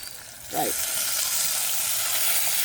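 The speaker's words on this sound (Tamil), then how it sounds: "எனக்கு வெங்காயம் மிளகாயெல்லாம் நல்லா பொரிஞ்சு வந்துட்டுது" Onions and chillies fry in a pan for an aubergine and chickpea dish, a steady broadband sizzle rising after a brief stir scrape and holding evenly, close and moderately loud, with no talk.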